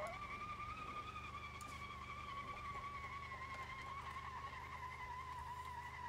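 Tires of an Ibishu Pigeon towing a small trailer spin and squeal steadily in BeamNG.drive, with the engine droning loudly underneath throughout.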